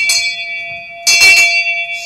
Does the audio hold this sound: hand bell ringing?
yes